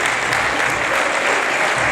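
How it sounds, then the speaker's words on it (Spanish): Steady applause from an audience at a motorcycle trial awards gala in 2017, with dense, continuous clapping throughout and no talking. "Fuerte aplauso para los tres."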